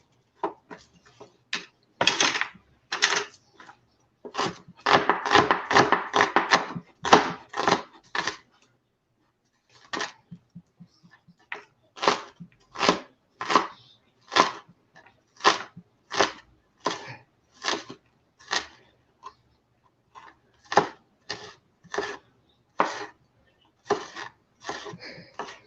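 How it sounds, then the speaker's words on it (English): A knife chops an onion on a board in a home kitchen, a run of sharp, fairly close chops in quick bursts and steady rhythms, with short pauses between groups and no talk over them. "I can do and will do is cut up an onion."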